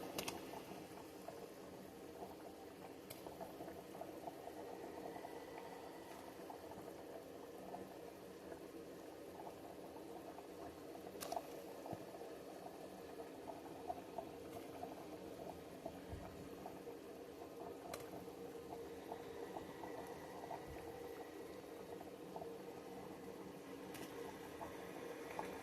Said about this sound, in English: The water has to be boiling.